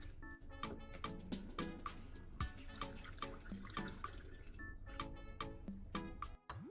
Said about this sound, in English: Pour slowly, do not let it overflow, and do not overfill it.